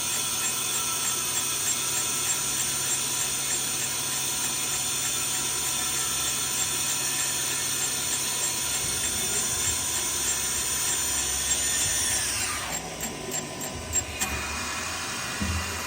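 Main spindle of a 2008 Tsugami BE-12V CNC screw machine with live milling running at 8,000 RPM, a loud steady mechanical whine and hum close by that winds down near the end, with no talk.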